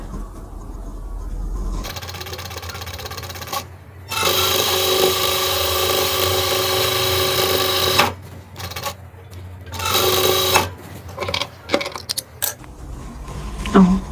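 A sewing machine stitching a corner sofa cushion cover, running in a few loud, steady buzzing stretches separated by pauses, with small handling clicks and rustles between runs.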